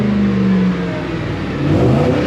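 A Ford F-150 pickup truck engine, suffering a loss of engine power, revs loudly up close, its pitch rising, dipping, then climbing again in a throaty roar.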